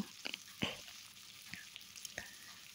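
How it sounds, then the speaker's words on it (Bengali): Soft, steady sizzle of besan and potatoes frying in two spoons of oil in a wok, with a few sharp crackles and pops scattered through, fairly quiet and close, with no voices. "2 চামচ কড়াইতে তেল দিয়ে এটাকে একটু ভেজে নেব"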